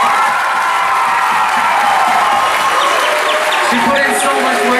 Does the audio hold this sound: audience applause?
yes